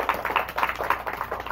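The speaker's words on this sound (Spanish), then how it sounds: "otro aplauso." Several people clap in a quick, steady rhythm at Angelita Hernández's birthday celebration, with the claps close and moderately loud and no talk over them.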